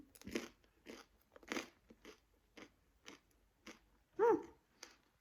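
Gluten-free bread made from a Rema 1000 mix being bitten and chewed close up, about ten distinct crunchy chews in an irregular rhythm with quiet gaps between them.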